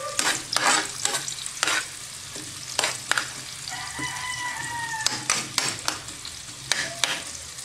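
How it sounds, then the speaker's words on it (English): Onions sizzle steadily as they are stir fried in a hot pan while a utensil scrapes and clatters in irregular strokes, close by, with no talking. "all of these three actually smell good when you're stir frying them"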